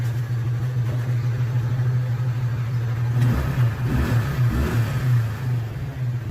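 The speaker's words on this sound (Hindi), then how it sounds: "रेफ किया जाए।" A TVS Ntorq scooter with over 94,000 km and a newly fitted drive belt idles with a low, steady hum in a garage. Midway it revs up in a couple of rough, surging bursts.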